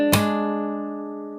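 Guitar notes from a tutorial: a percussive string slap struck over a ringing plucked chord that sustains and slowly fades, close and alone.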